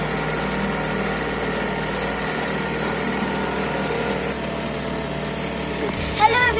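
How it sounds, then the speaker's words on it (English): A speedboat engine runs at a steady idle-like drone on board, continuous and fairly close, with a voice speaking now and then over it. "So we're finally on the boat, and this boat, um, the speedboat"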